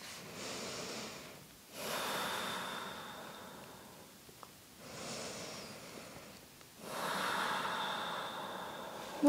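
Slow, deep breaths during a restorative yoga hip stretch, each long inhale and exhale rising and fading in a steady, unhurried rhythm, close and soft with no talking.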